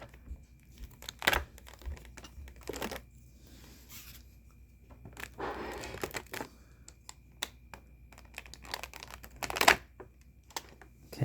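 Wire cutters snipping an action figure free of plastic toy packaging, with a series of sharp snips and clicks mixed with crinkling plastic and cardboard rustle, close up and irregular.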